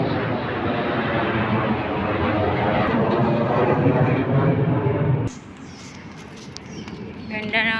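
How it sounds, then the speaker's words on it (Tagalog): Airplanes roar overhead in a loud, broad, sustained rumble that drops away sharply after about five seconds, with people talking and faint footsteps underneath. "Ang dami mga aeroplano dito."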